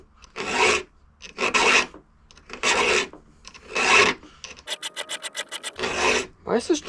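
Hand file rasping across a chainsaw chain's cutters in quick back-and-forth strokes, loud and close, with short pauses between bursts and a rapid run of light strokes near the end.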